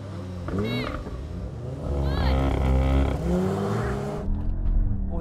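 BMW, Audi and VW hot hatches launch off the line in a drag race, their engines revving and climbing in pitch together at moderate distance, with a voice talking over the noise.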